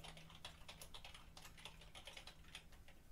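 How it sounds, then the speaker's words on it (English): Rapid keypresses tapped out on a keypad, a quick irregular patter of light clicks that runs steadily throughout, close and fairly loud, with no voices over it. "Okay, let me type that in."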